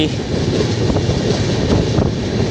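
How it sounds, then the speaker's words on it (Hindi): The Bikaner-Madurai Express running through the outskirts of Bhopal, Madhya Pradesh, heard from on board as a loud, continuous rumble with rhythmic wheel clatter and rattling carriages, close and steady throughout. "बीकानेर मदुरई एक्सप्रेस से भोपाल की तरफ और कुछ ही पलों में भोपाल हम पहुंचने वाले हैं"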